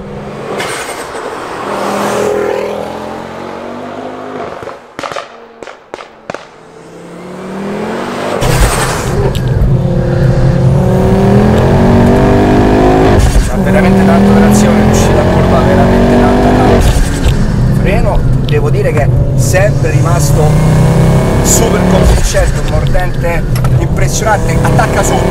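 A 500 hp Ford Focus RS with a hybrid K16 turbo accelerates hard, its engine roaring loudly and climbing through the gears. Tires squeal at times, and a voice talks over the car.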